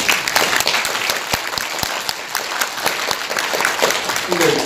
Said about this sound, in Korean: 우선 박수 한번 보내주세요